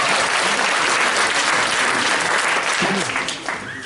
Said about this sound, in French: Elle est là, on peut l'applaudir aussi